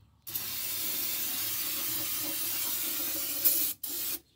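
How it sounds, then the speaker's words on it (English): Brake cleaner sprayed from an aerosol can onto a 2003 GMC Sierra 1500 rear differential, a steady loud hiss lasting about three seconds, then a short break and one more brief burst. "All right, brake cleaner."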